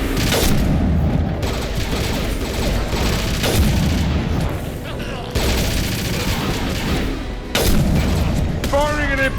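Weapon fire booms and bursts in rapid volleys during a Mass Effect 2 firefight, heavy layered blasts loud and close, with short pauses between salvos and a voice shouting over them.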